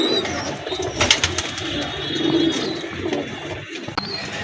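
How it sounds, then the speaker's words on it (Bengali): A young adult pair of golden pigeons of the crested type coos in low, rolling phrases close by, over a background of faint rustling and clatter, with no talking. "আমার হাতে এক পেয়ার স্কুলওয়ালা গোল্ডেন কবুতর দেখতে পাচ্ছেন"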